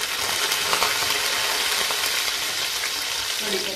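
Mustard seeds, cumin and chili sizzle in hot oil with a dense, steady crackling hiss, close and continuous, with faint stirring and no talk.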